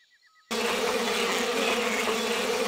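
Bees buzz in the Madagascar 2 video game, a dense, steady drone that starts suddenly after a quiet moment and holds loud and unbroken to the end.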